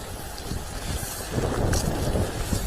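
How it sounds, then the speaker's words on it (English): Wind blowing through a cemetery at night, buffeting the microphone in rough, rumbling gusts that swell partway through, loud and close, with no talk. "I'm well in the windy bit now"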